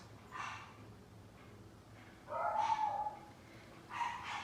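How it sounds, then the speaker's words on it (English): A dog barks a few times at a distance, in short separated bursts over a quiet background. "And the dog's barking."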